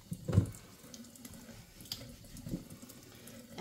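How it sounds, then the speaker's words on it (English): Instant hot water tap running into a black composite kitchen sink, a short close splash of water followed by quieter trickling and faint drips. "is my instant hot water."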